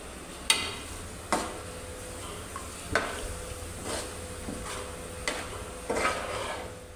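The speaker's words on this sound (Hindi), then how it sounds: "यहाँ मैंने ना 2 दरमियानी साइज़ की प्याज लेके उसको हल्का सा जो है ब्राउन कर लिया" Two medium onions fry in oil until lightly browned for chicken korma, a steady soft sizzle broken by about six sharp clanks of a spoon stirring against the pan.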